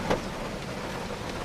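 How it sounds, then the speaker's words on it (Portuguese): Rain falls steadily around a parked car during a tilapia fishing trip, making a dense, even patter on the car with a slightly heavier burst at the start. "Tá chovendo. Começou a chuva agora."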